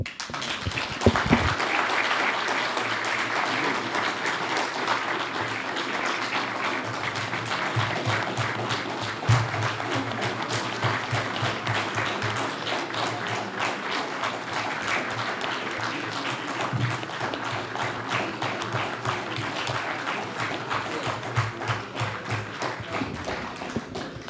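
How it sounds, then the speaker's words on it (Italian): Sustained audience applause after a lecture on ancient Persia, a steady dense wash of clapping lasting over twenty seconds with no talk over it. "che l'applauso dica molto più di quello che devo dire io"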